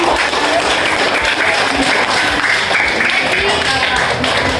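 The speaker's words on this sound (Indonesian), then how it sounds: "Kita beri tepuk tangan yang meriah kepada adik." An audience applauds warmly for a child at a church or Sunday school gathering, a dense, steady wash of clapping that fills the room, with voices murmuring underneath.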